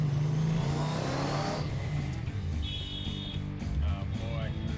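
Supercharged 6.0L LS V8 engine revving on a closed course, a loud, rough, sustained roar that eases partway through while voices chatter nearby.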